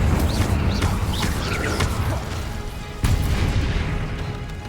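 An Incendio fire spell blasting in Hogwarts Legacy, a dense roaring burst of booming impacts and crackle that fills the clip, with a sharp extra hit about two thirds through.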